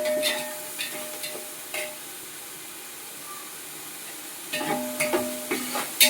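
Vegetables for capsicum rice being fried and stirred in a pan, a low sizzle with scraping stirs and clinks near the start and a busier burst of stirring toward the end, no talking.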